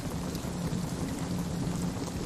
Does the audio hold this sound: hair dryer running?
no